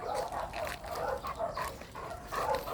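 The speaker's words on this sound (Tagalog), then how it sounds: "ay mga aso doon." Dogs bark repeatedly outdoors in a quick, uneven series of sharp yaps and woofs, moderately loud and fairly close, with no talking over them.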